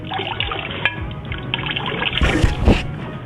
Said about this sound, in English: So then now we take this green and we pour it just along the edge